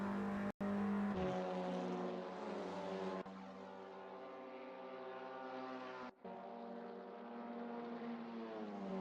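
Race cars in a Super GT sim racing game drone with high, steady, strongly tonal engine notes, pitch shifting slightly as gears change, with a few abrupt brief dropouts and no speech.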